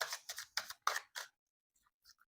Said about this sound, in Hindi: चलिए मैं यहाँ पे शफलिंग करके कार्ड्स निकालूँगी